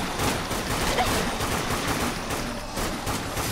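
Dense, continuous gunfire from the top-down zombie shooter Dead Nation, rapid automatic shots blending into a loud, steady roar with no pauses.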